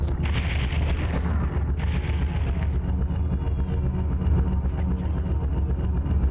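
Heavy, sustained chaingunner gunfire from PlayStation Doom fills the space, a dense booming roar that stays loud and continuous throughout with no voices.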